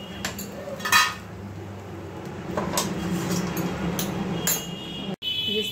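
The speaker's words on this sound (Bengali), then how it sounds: "আমি এখন গ্যাসটা বন্ধ করে ঢাকা দিয়ে রাখবো।" Gas stove clicked off and a lid set over a pan of fish paturi, producing metallic clinks and scraping with a sharp knock near the start and a clack near the end, close in a quiet kitchen.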